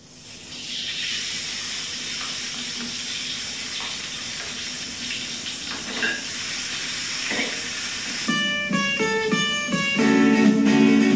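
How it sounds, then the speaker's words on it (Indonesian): Vegetables stir-fried with garlic, onion, pepper and salt give a steady broadband sizzling hiss, with clattering utensil tones and harmonic clinks entering near the end. "semua bahan isian yang terdiri dari sayur-sayuran ditumis bersama dengan bawang putih, bawang bombay, serta sedikit lada dan garam"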